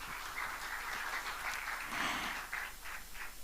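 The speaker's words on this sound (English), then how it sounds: "Give a round of applause to him, ladies and gentlemen." An audience at a corporate MoU signing ceremony applauds an honored guest with faint, distant, continuous clapping that carries on steadily throughout.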